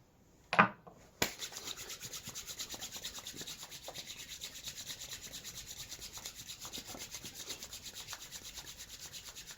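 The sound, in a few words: rubbing hands together with oil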